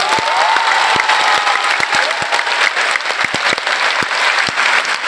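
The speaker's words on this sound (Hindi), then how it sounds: "आपको सभी अध्यापकों के लिए जोरदार ताली बजानी चाहिए एक बार" A school audience applauds its teachers loudly, a dense wash of clapping with sharp individual claps standing out near the listener throughout.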